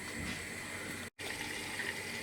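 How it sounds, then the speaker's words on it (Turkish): A kitchen water tap runs steadily, a close, even hiss of flowing water that cuts out for an instant and then resumes. "Şöyle su da açtım."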